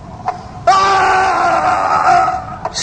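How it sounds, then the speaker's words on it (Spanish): A long drawn-out scream sounds at the dagger-fall climax of a Spanish-language audiobook of Edgar Allan Poe's The Masque of the Red Death, one loud sustained cry of about two seconds with a brief faint cry before it. "Se oyó un grito."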